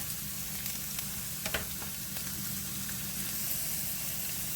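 Chicken and shrimp stir fry sizzles steadily in a pan, a continuous crackling hiss with a few sharper pops, close and moderately quiet, with no talking.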